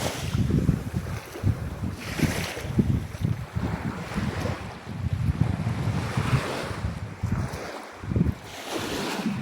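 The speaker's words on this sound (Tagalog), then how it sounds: "ito ang dagat" Sea waves wash up on a beach close by with a repeated rushing surge, mixed with gusty wind rumbling against the microphone.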